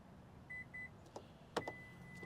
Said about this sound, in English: listen for all the beeps